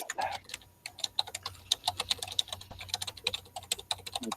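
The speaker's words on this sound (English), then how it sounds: "He's just pressing the space bar 100 times." Rapid keyboard typing close up, a quick irregular run of clicking keystrokes with a few heavier thumps like space bar presses.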